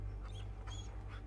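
A dog companion in Fallout 4 whimpers softly in a brief, faint whine over a steady low game hum.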